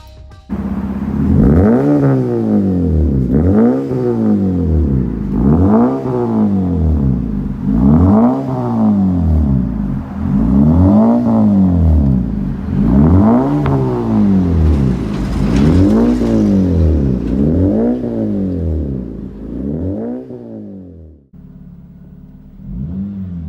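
A 2009 Honda Civic fitted with a Rich's Street Demon cat-back exhaust revs loudly and repeatedly, roughly ten rising-and-falling blips in a steady rhythm, close by, settling to idle near the end.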